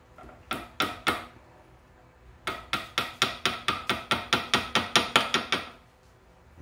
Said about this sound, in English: And just gently tap it down over it